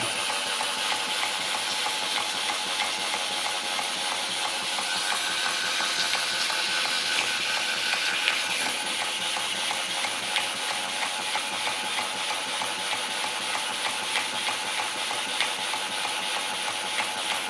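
Model steam mill engine fitted with a new nickel- or chrome-plated steam valve runs steadily, giving a continuous hiss with a fast, even mechanical beat at close range and no talk.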